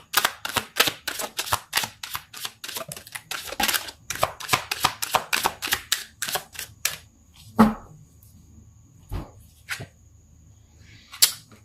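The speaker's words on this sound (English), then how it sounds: "going to pull some more cards" Tarot cards are handled and shuffled, giving a rapid run of crisp snapping flicks that then thins out into a few isolated taps.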